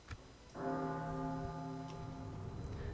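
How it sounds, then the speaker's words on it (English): Funeral bells ringing for a king in the video game Lucium Total War, a low, sustained tolling tone that swells in after a short tick and rings steadily, fairly quiet throughout. "Bells ring as the life of King William of Britain and the Netherlands comes to an end"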